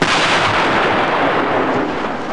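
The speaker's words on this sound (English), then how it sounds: "there was a flash and an explosion." Explosion effect from a Century 21 Daleks audio drama on 33rpm record, set off as a cable is wrenched from a rooftop junction box: a loud, dense roaring blast that holds steady, with no voices.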